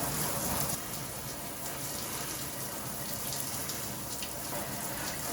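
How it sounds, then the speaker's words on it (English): Warm water runs steadily from a kitchen faucet as an air conditioner filter from a Midea U Smart Inverter window unit is rinsed, a continuous close gushing splash with no talk over it. "Now I'm gonna turn on some warm water and I'm just gonna rinse it from the opposite side."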